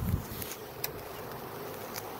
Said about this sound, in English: There are so many bees in the air.